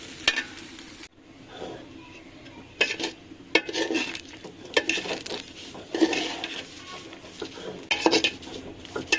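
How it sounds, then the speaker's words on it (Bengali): A spoon scrapes and clatters against a pan in repeated bursts as rice fries with a soft sizzle underneath, for vegetable khichuri. "এরপর চালটা ভাজা হওয়া পর্যন্ত নাড়তে থাকবো"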